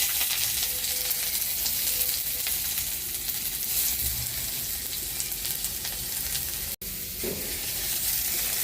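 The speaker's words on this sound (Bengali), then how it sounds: "আমি কালো জিরে শুকনো লঙ্কা ফোড়ন দিয়েছি, দিয়ে এটাকে পেঁয়াজটা একটু ভেজে নিয়েছি।" Onion frying in hot oil tempered with black cumin and dried chili, a steady close sizzle running throughout with faint stirring, briefly cut for a moment near the end.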